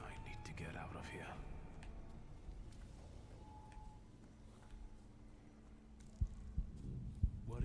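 Heartbeat in the video game The Thaumaturge: a few deep, muffled thumps near the end, preceded by dim whispering voices and a low ambient hum.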